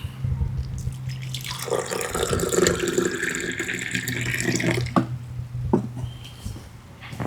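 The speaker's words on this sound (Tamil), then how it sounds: "இது தேவையான அளவு தண்ணி ஊற்றிக்கலாம்." Water poured into herbal powder with ghee, a steady trickling pour that runs for several seconds, close and moderately loud, with a low hum beneath it.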